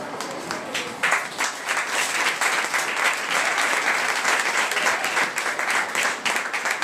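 A church congregation applauds at the church's 25th anniversary, a dense, steady wash of many hands clapping that swells after the first second and holds for several seconds.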